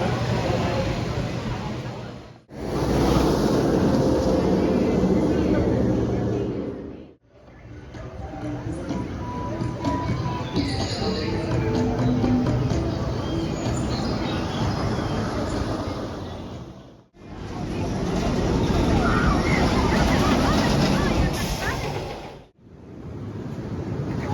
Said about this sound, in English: Ride number one on the day on one of the greatest coasters of all time